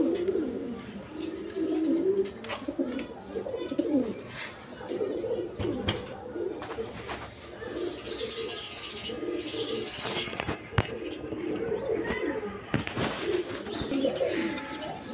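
Red Rajgolla pigeons coo softly and repeatedly in a low, throaty murmur, with several birds overlapping against a busy background of rustling and small knocks.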